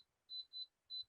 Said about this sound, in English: it's beeping at me because I have it set for saute